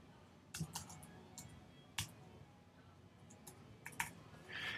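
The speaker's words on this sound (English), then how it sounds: "type in your Newman University email and then type in your Newman University password" Login details typed on a computer keyboard: soft, irregular key taps and clicks in quick bursts, close and fairly quiet against a faint room background, with no voice.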